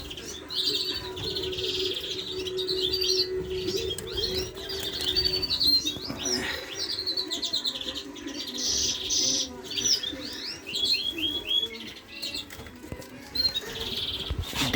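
A pair of siskins in an aviary chirp and twitter continuously in bright, close, overlapping calls, with brief wing flutters mixed in and no talking.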